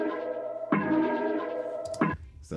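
Processed music sample from a beat breakdown of a song revamp, a sustained harmonic chord passage drenched in thrown reverb and effects, with abrupt swells and cuts near the start and end, playing alone.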